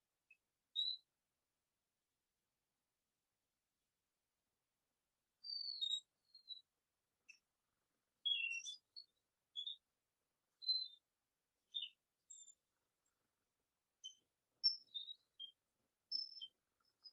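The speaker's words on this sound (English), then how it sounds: "The birds are singing." Birds sing in short, high chirps and tweets scattered across an otherwise silent stretch, faint and distant, arriving in sporadic bursts with long pauses between.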